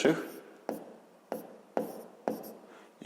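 Numbers being written by hand while working a sixth-grade math exercise, a series of about five short scratchy pen strokes in an uneven rhythm, close and fairly quiet, with a voice talking between them.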